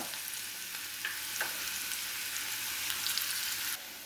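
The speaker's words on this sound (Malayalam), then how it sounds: "മാങ്ങയെ ഇത് കുറച്ച് നേരം ശകല സമയം ചെറുതീയിൽ വഴറ്റി കൊടുക്കാം" Small mango pieces are sautéed on a low flame for a mango and carrot pickle, giving a steady, even hiss of frying with a few faint stirring touches. It holds at a constant level and cuts slightly quieter near the end, with no talking.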